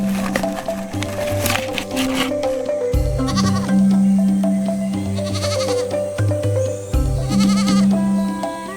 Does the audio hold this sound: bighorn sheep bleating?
yes